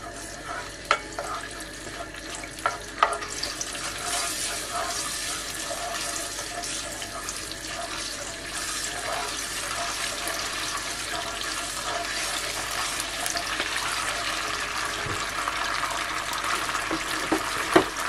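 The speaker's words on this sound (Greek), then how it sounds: "ανακατεύουμε λιγάκι" Tomato sauce stirred in a pan gives a steady, broad hiss of simmering with faint scraping from the spoon, close and even throughout, with occasional small clicks and no talk.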